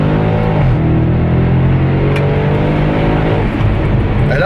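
An Audi RS6 accelerates hard from close by, its engine revving loudly and steadily with a rising harmonic roar that holds for several seconds. No one talks.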